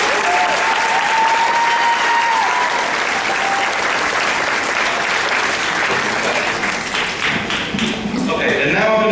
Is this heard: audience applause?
yes